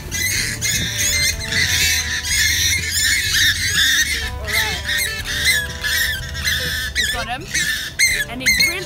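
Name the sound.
pukeko (swamp hen) squawking while being caught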